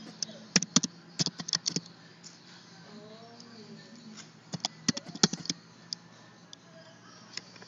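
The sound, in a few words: typing patient data on a computer keyboard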